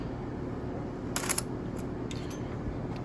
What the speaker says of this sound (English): let's release the shutter.